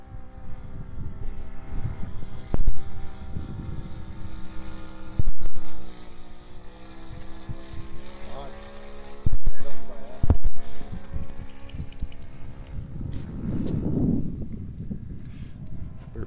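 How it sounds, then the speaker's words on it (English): A model Corsair aircraft's motor runs on its first flight, a steady droning buzz that dips and sputters with brief misfiring bursts, with wind noise over the microphone throughout. "you hear the motor sputtering?"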